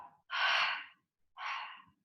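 Two loud, breathy exhalations close to the microphone, a long one followed by a shorter one after a brief pause, with nothing else around them.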